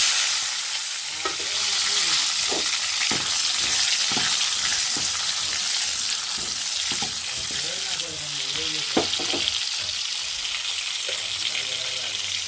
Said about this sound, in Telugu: టమాటా ఉల్లిపాయ మొక్కలు కాయిల్ హీట్ ఎక్కింది కదా వేసుకుంటాం